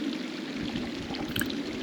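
Clear fresh water streams and pours steadily at the Mossy Cave waterfall, a continuous close rushing flow with no voices.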